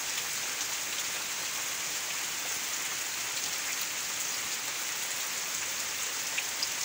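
Heavy daytime rain pouring among large trees, a dense, steady hiss of drops on surfaces with no pauses and no voices.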